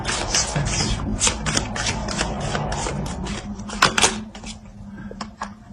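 Tarot cards being handled and shuffled close up, a steady run of crisp riffling flicks and soft slides with a few sharper snaps near the end, no voices.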